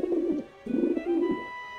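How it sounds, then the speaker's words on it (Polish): Pigeons coo in the Grim Fandango video game, a few soft, throaty rolling calls in short bursts that come up close and clear with no talking over them. "nagle słychać kurwa gołębie"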